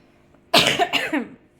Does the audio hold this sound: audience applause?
no